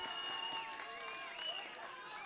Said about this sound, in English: The Pakistani crowd comes alive now